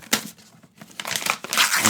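Wrapping paper crinkles and rustles as it is torn away from a newly bought book, close and crisp, in uneven bursts that grow denser and louder toward the end.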